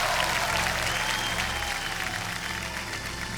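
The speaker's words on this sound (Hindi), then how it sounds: "तालियां बज जाए इनके लिए।" Studio audience applause for a returning guest expert on a Hindi quiz show set, steady dense clapping sustained throughout at an even level.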